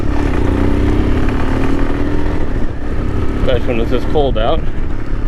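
A Royal Enfield Himalayan motorcycle idles on a cold day while warming up, a loud, steady low engine drone close by, with someone talking over it.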